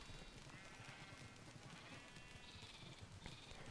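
Sheep bleating on a sheep farm in a video game, several calls repeating over a steady bed of background noise, moderately loud and with no talking.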